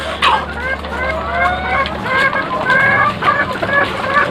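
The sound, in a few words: chickens clucking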